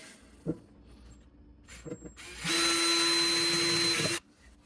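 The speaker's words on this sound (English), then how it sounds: "I'm going to use a 1/4 inch drill bit to put the hole right in the middle of this pipe" A power drill with a 1/4 inch bit whirs steadily for under two seconds, drilling into a pipe, close and loud, after a few short clicks and taps.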